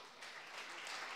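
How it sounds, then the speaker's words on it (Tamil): A brief burst of applause for teachers at a college computer science department event fills the room, steady and fairly faint throughout. "அவங்களுக்கு ஒரு கைத்தட்டல் கொடுக்கலாமா?"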